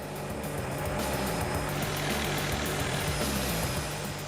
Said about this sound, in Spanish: Ahora el helicóptero ha quedado adherido a la línea y Dwayne puede dedicarse a arreglar